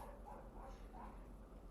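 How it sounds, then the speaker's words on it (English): A pet dog barks in short yips and woofs somewhere indoors, fairly faint and distant over a low steady room hum, with no talking. "sorry if you could hear my dog barking"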